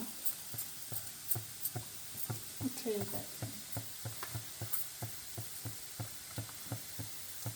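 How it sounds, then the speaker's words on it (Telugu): Crushed garlic cloves sizzle in hot oil for the tempering of a spinach dal, a soft, faint fry under a steady run of light ticks and taps. "అదిగో 2 వెల్లుల్లిపాయలు దంచి తాలింపులో వేసాను"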